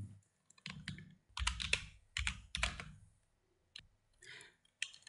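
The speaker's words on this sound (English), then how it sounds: "So select this text tool, click over here and type your music company name." Quick clusters of keystrokes on a computer keyboard while entering text in Photoshop, close and fairly quiet, arriving in several short bursts separated by brief pauses.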